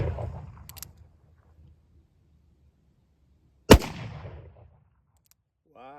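A single loud, sharp rifle shot fired with jacketed, plated bullets over a 25-grain black powder cartridge load, standing alone with a short decaying tail, with brief talk before it.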